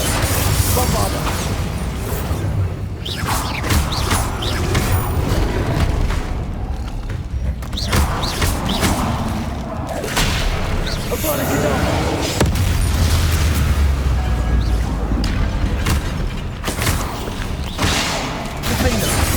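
Spell explosions from Confringo and Bombarda blasts in the video game Hogwarts Legacy, heavy booming impacts and crackling bursts in a continuous loud combat mix, with voiced spell shouts and game music layered over the whole stretch.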